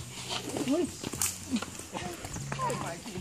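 Horse hooves clip-clop at a walking pace nearby, mixed with people talking and a faint whinny in the background.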